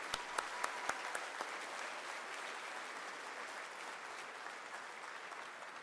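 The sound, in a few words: audience applause at opening ceremony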